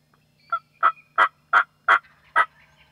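A wild turkey gobbler gobbles in a rapid series of six loud, rhythmic bursts, clear and fairly close against a quiet background.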